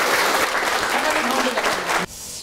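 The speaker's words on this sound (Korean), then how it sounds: "박수 한번 주세요." A studio audience claps briefly during a Korean television talk program, dense applause close by that stops abruptly near the end.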